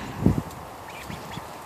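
Baby ducks being introduced to a chicken flock give a brief, fairly close burst of quacking near the start, followed by a few fainter calls against a quiet outdoor background.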